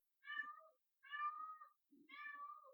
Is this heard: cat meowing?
yes